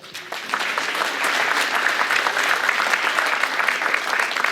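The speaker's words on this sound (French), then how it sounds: "on peut l'applaudir." An audience breaks into applause, rising quickly from a few claps into a full, steady round of clapping that carries on evenly to the end.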